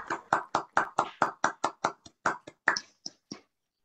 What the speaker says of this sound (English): give a proper old-fashioned round of applause for her efforts this evening